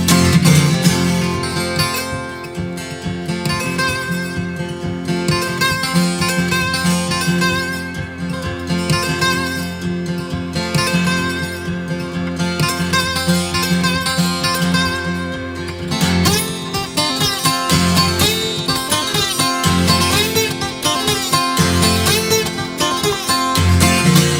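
A harmonica wails in long, sustained chords, imitating a distant train whistle, with rhythmic chugging underneath and a shift in tone partway through.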